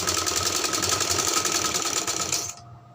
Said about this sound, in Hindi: सारी डोरियों को इस तरह से रखकर हम सिलाई लगा लेंगे।